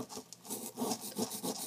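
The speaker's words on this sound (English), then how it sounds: "you can scrape it away" A scraping tool rubbing away at a material to dig out a hidden coin from a gift, giving a series of close, rhythmic rasping strokes of about four or five passes, moderately loud with no talk.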